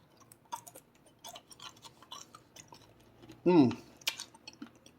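Crunchy candied almonds, a sweet holiday treat, being chewed with a few crisp bites, one louder crunch partway through, over faint background noise.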